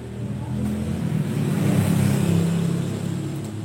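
A motorcycle with a ported racing exhaust revs up and settles back down close by, with a rough, throaty exhaust rumble.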